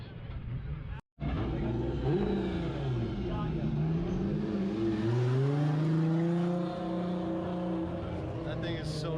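A drift car's engine revs hard, its tone rising and falling through several swells after a brief cutout near the start, loud and close throughout.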